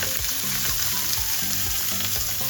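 Salted shrimp pan-frying in a wok, a loud continuous sizzle and crackle of hot oil up close, with faint stirring knocks and no speech.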